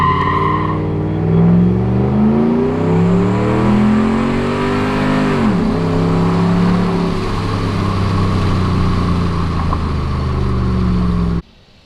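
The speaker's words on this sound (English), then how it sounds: "So we're gonna do a pull from a complete stop. I'm gonna rev it up to 2K." A Ram 1500 pickup truck revs from a complete stop to about 2,000 rpm, then accelerates hard through rising and falling gear sweeps, loud and close, before cutting off abruptly at the end.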